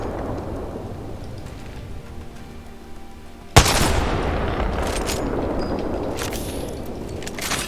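The Kraber sniper rifle in Apex Legends fires one loud, sharp shot midway through, leaving a long rumbling tail over a constant background hiss.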